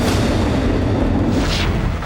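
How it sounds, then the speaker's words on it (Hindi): Russian missile strikes on the port of Odesa produce a heavy, continuous booming roar, dense low rumble filling the whole stretch with one brief louder burst near the end, loud and without voices. "रूस के हमलों की वजह से ओडेसा पोर्ट पर एक के बाद एक कई विस्फोट हुए।"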